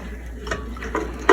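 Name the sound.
stirring jambalaya in a pot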